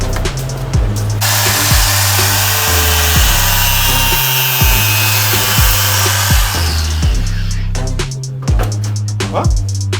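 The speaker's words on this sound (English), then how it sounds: "What are you cutting them with again? Grinder." Grinder cutting through car parts in a shop: a loud, sustained whining cut with a repeating lower-pitched pulse under it, heavy and close, with brief choppy bursts toward the end.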